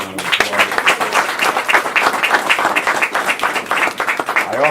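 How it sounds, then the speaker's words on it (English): Clapping from an audience at a speaking event, dense and lively, sustained for several seconds close by. "Please give him a round of applause."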